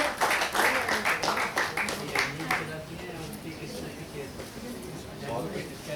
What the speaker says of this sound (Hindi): एक बार जोरदार ताली से स्वागत करें